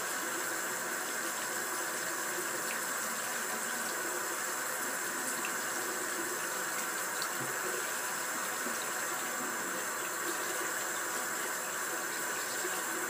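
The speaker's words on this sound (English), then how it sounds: "Let's get some warm water going." Warm water runs steadily from a sink tap, a constant close hiss and splash with no voices.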